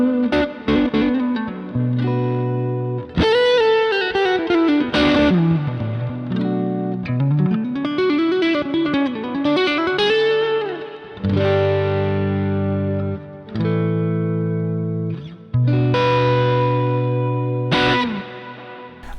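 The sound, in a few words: electric guitar through homemade low-gain dirt pedal, volume rolled back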